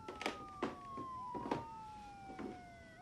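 A distant police siren wails with gliding, overlapping tones, while faint footsteps or thuds sound in the foreground.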